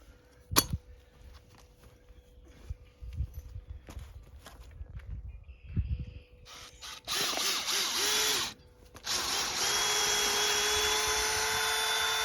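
A power drill bores holes while a wooden deck is being built: scattered knocks and handling first, then loud sustained whirring bursts in the second half, with one long steady run near the end.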